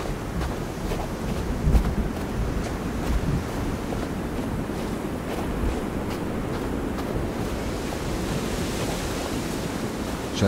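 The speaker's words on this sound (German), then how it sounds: "Scheint es auch ziemlich windig zu sein." Wind gusts and ocean surf wash continuously along a shoreline in the survival video game Sons of the Forest, a steady rushing roar with no voices.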